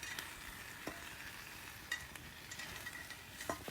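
Rabbit meat browning in a small 2-quart pot over a bush cooking fire, a soft steady sizzle with a few faint stirring scrapes and clicks.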